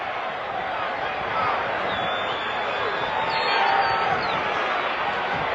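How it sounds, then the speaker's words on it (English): A huge crowd at a 1983 football game between the Michigan Panthers and the Birmingham Stallions, a dense continuous roar of cheering from a distance that swells a little, with no clear talking over it. "Crowd is huge and cheering"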